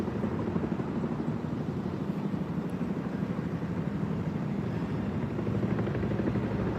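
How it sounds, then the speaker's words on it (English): A large helicopter flying somewhere nearby but out of sight, its deep, steady rotor drone loud and continuous throughout with no break. "I can hear a helicopter"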